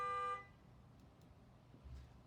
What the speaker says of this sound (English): It's a car honking.